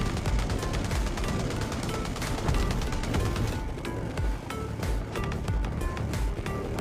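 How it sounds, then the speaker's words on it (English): Proximity cannons roaring in a canyon, a dense, sustained barrage of rapid gunfire with sharp overlapping cracks and low booms, continuous and fairly loud throughout. "all the proximity cannons in the canyon roared to life. Bullets poured down like rain"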